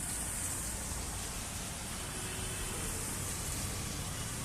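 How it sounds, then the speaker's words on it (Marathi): Rain falls in a faint, steady hiss with no distinct drops, a soft and even wash that runs the whole time without voices. "पाऊस पडतोय कसा बघा पाऊस पडतोय"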